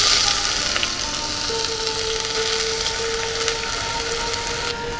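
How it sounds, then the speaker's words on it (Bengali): Whole garam masala (a piece of cinnamon and small cardamoms) and ginger paste fry in hot oil, giving a steady, loud, close sizzle with faint crackles and no voices. "এই তেলেই আমি গোটা গরম মশলা ফোড়ন দিচ্ছি।"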